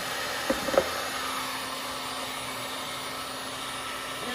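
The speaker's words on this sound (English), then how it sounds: "So just grab a heat gun and" A heat gun blows a steady, fairly quiet hiss of hot air onto the vinyl wrap of a Can-Am Ryker to loosen it, with a couple of soft clicks near the start.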